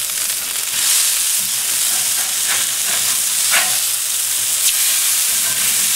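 Burger patties for chili cheeseburgers frying steadily in a pan, a continuous loud sizzle with a few brief clatters as they are flipped, no talking.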